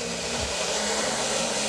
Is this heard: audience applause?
no